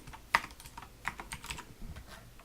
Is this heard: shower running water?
no